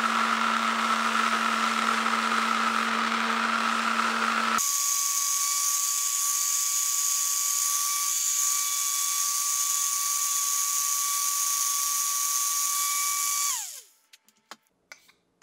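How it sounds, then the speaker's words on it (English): A power sander works on custom drum sticks, a steady high-pitched motor whine that shifts tone partway through, runs loud and constant, then winds down near the end with a few small knocks. "I'm going to go grab the sander, and we're going to get going on this."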